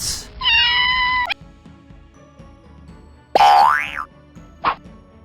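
Several cats meow in turn, a long steady meow, then a sharp rising one and a brief final mew, clear and close against a quiet background.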